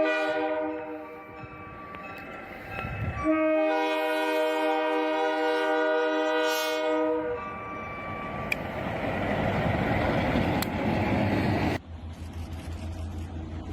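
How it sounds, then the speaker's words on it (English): Two locomotives and four wagons derail and topple on hillside tracks in Spain. A loud, sustained train horn blares, then gives way to a heavy rumbling, grinding roar of rolling stock that cuts off abruptly. "Two locomotives derail and four wagons topple, twisting steel across the hillside tracks."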